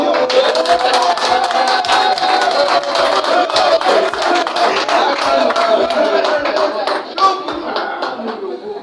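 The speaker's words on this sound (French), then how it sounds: "Vraiment, applaudissez pour monsieur Maïka" A crowd applauds steadily with dense, continuous clapping, some cheering voices mixed in, lasting throughout at a fairly loud level.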